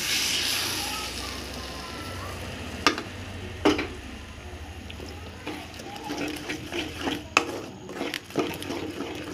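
Spoon stirring a filling of beaten egg, onion, green chilli and pepper powder in a pan, soft scraping and light clicks against the pan over a faint sizzle, with a voice talking.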